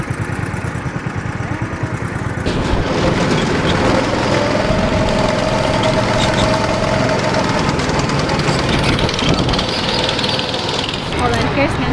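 Go-kart engines race around a track at a Golf N' Stuff amusement park, a dense, steady rattling drone that stays loud throughout, with people's voices mixed in.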